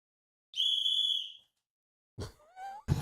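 A handheld whistle blown once in a single sustained shrill blast lasting about a second, followed by a pause and then brief talk by a man near the end.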